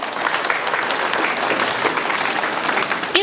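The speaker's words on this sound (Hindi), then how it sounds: "एक बार उनके लिए जोरदार तालियां" A gathering at a 26 January 2024 Republic Day event in Rasulpur gives loud applause in honour of Dr. Bhimrao Ambedkar. Steady, dense clapping runs throughout, with a brief louder burst at the very end.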